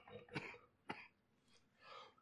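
Two light, soft coughs a short distance from the microphone, quick and quiet, followed by a faint breathy throat sound.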